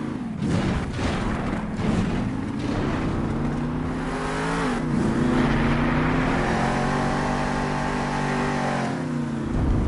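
Monster truck engine revving hard and roaring continuously through a stadium jump run at Monster Jam in Las Vegas, loud and close with rising and falling pitch.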